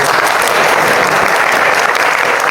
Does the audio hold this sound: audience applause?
yes